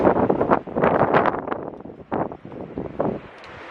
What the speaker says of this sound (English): there's kind of a little bit of a break in the wind